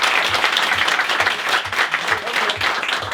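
A theatre audience applauds at a comedy show, dense steady clapping with a faint rhythmic pulse in some of the hands, loud and close for the whole stretch, with some voices mixed in.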